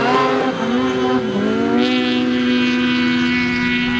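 A BMW 850 race car drives down a runway, its engine droning loud and steady with a rising pitch as it accelerates, heard alone without talk.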